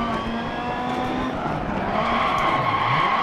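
Rally car in the Dirt Rally racing game, engine droning steadily with a harsh, sustained tire skid as the brakes lock up on a rallycross lap, loud and continuous throughout.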